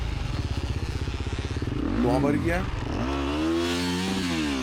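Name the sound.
motocross motorcycle engine during a race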